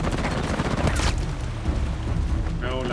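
Gunfire during a stealth combat fight in Uncharted: The Lost Legacy, a dense burst of booming shots near the start, then more cracks over continuous game noise, with a speaking voice underneath.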